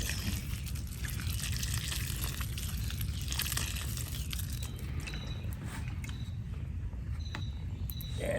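Water poured onto soil around a freshly transplanted plant in a garden, a steady, close trickling and splashing that runs continuously without talk.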